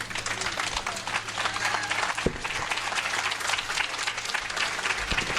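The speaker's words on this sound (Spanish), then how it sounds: "nuevamente el aplauso a nuestro compañero Fisgón" Audience applause for the speaker Rafael Barajas, "El Fisgón," at a talk on Trump and fascism: a dense, steady wash of many hands clapping throughout, loud and sustained, with one sharp thump midway.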